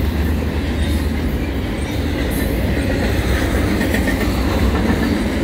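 A CN intermodal freight train rolls past at Montmagney, Quebec, slowing down, its steady loud rumble and rail clatter filling the whole stretch without a break.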